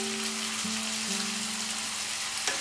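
Chicken frying in a pan as sour yogurt goes in, a steady, even sizzle throughout with a faint tonal hum in the background.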